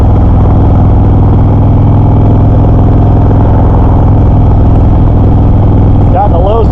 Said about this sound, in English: This motor is wanting to go.